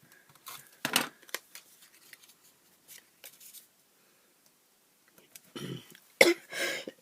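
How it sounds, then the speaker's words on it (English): A few sharp coughs, close and somewhat muffled, scattered among quiet rustling and paper handling, with a longer rough cough burst near the end. "It's my wretched cough."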